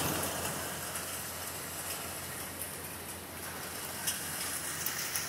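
Heavy rain pours steadily outdoors during a flash flood over a driveway, a dense, constant hiss with scattered louder patter, close and unbroken, with no talking.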